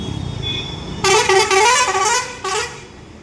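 Buses pass a city bus stop late at night: low traffic rumble, then a loud, long, close horn blast, a short pause and another brief honk.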